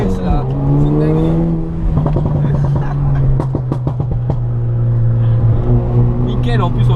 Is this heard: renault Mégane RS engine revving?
yes